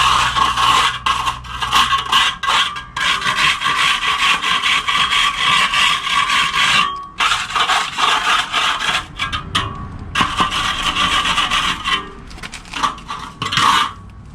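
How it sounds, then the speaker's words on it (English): A tool scrapes across the scratch coat of render on a wall, making repeated gritty rasping strokes in bursts, close and fairly loud, with short pauses between passes. "So first thing, give the scratch a little scrape."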